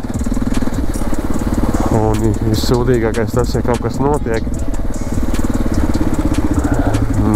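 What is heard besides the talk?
motorcycle riding on a forest gravel track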